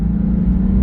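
Porsche 996 with an aftermarket valved exhaust, revving steadily as it climbs through the rev range, a loud, close, continuous engine rumble with no talking.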